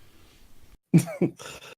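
A tabletop role-playing player acts out a fantasy hero coughing up blood, giving two or three sharp, close vocal coughs after a short quiet pause, ending in a rougher throaty burst.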